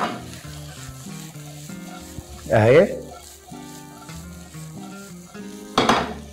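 Thinly cut vegetables stir-fry in a pan, with two loud bursts of sizzling as they are tossed, over quieter frying, background music and a brief voice.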